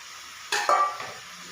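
Spice powders of chili, coriander and turmeric tipped into a pan of boti curry, giving a short sizzling scrape and stir with a brief metallic clink, close and fairly quiet.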